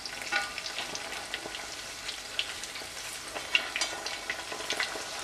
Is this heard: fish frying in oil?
yes